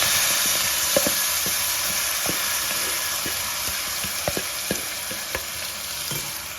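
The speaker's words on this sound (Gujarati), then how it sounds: "હવે આપણે આ જે ચોળી બટેકા છે એ આપણે નાખી દઈશું" Cowpeas and potatoes frying in hot oil make a loud, constant sizzle, with scattered sharp pops and spoon taps against the pan throughout, with no one talking.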